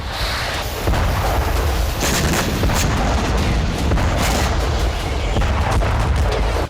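Heavy booming blasts and rumbling, like distant artillery fire, dense and continuous with a few sharper thuds.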